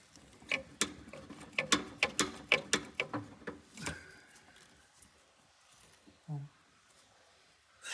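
Screw being tightened by hand tool on the fuel pump of a VW Brasília near the carburetor: a quick run of sharp, close clicks and ratcheting ticks, then a few softer scrapes and a low knock, no talking.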